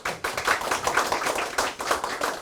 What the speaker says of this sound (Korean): 순서에 차질 없이 박수를 쳐주셔서 감사합니다